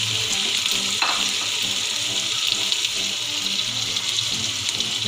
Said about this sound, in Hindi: लहसुन भी अच्छे तरीके से भुन गया है। अब हम इसमें डालेंगे गोश्त।